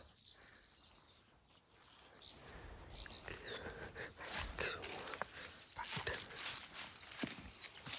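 Many wild birds chirp and call in a forest near Mulkharka Lake in the Kathmandu valley, bright overlapping tweets repeating throughout over a busy outdoor background, fairly close and steady.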